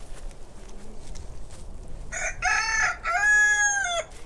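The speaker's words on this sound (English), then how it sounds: "He's a Buff Orpington rooster." A large Buff Orpington rooster crows loudly and close by, one drawn-out cock-a-doodle-doo that breaks off into a second part, after a few seconds of quiet outdoor background.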